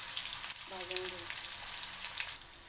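Finely chopped onion frying slowly on low gas, a soft steady sizzle close by with light stirring crackles and a brief tonal hum partway through.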